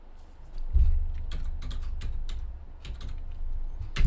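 Someone types code on a computer keyboard while building an e-commerce application in ASP.NET Core. Close, rapid clicking keystrokes come in uneven bursts, with a few heavier thumps, and no voices.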